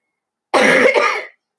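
A single harsh, close cough of under a second from a person who has had a lingering cough and a clogged throat for three weeks, loud and isolated against silence.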